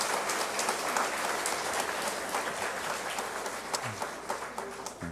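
Congregation in a church service applauding together, a soft, even patter of many hands clapping that holds steady throughout at moderate distance.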